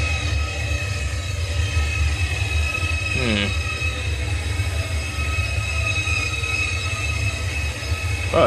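Shinkansen bullet train in the Trainz railway simulator running with a steady low hum and a constant electrical whine, broken by a brief rising squeal near the middle, with no voices over it.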